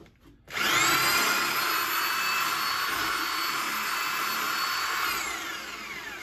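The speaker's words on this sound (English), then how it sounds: "it's scraping all them walls. This is so important to do, trust me. Drop the drill and pull it out slow." A power drill with a bent wire brush spins inside the heat riser intake of a VW Beetle, a loud, steady high whine with scraping that starts abruptly and then tapers slightly toward the end.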